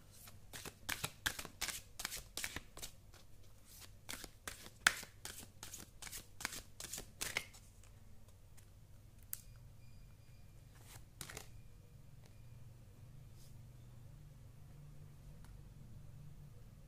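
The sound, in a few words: tarot cards being shuffled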